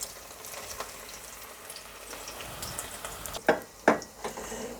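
Steady low sizzling of Izmir-style meatballs frying in a pan, with a couple of sharper scraping clatters near the end.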